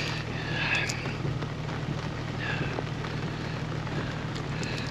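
Heavy rain pours down steadily outdoors during a crawfish boil, a dense continuous hiss with a low hum beneath it and no voices.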